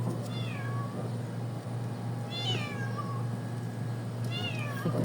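A cat meows three times, spaced a second or two apart, over a steady low hum in the background.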